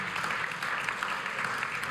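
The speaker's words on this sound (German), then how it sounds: "Genau, mal Applaus." Audience at a German securities-investment forum applauding, a steady dense wash of clapping that holds evenly through the short stretch.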